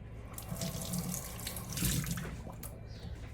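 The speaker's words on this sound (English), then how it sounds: "let me rinse this off real quick" A kitchen tap runs steadily as something is rinsed under it while canning blackberries, a close, continuous splashing wash with a brief louder surge midway.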